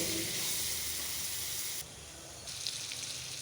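Spices sauté on a slow flame for green tomato chutney, giving a soft continuous sizzle and hiss that drops quieter partway through, then resumes with faint crackles; nearby and gentle, with no speech.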